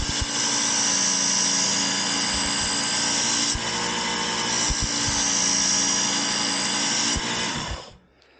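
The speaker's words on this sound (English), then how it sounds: "I have the coarsest grind belt in here" A belt grinder with a coarse grit belt sharpens an Ace Super Express archery broadhead in a loud, steady whine that runs almost the whole time before cutting off at the end.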